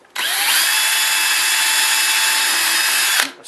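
A power drill fitted with a 3.2mm bit boring a hole: a loud, steady high-pitched whine that runs for about three seconds at constant speed, then cuts off abruptly, close up with no talking.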